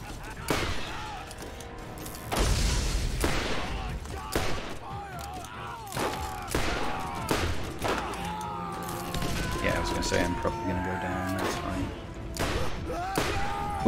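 Assault rifle fire in Borderlands co-op combat: scattered gunshots and short bursts over a busy battle soundscape, with impacts and effects and a voice talking intermittently throughout.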